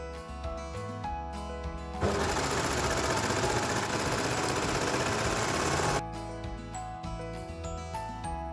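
A sewing machine stitching swim trunk panels runs loud and steady for about four seconds in the middle, with backing music playing throughout before and after.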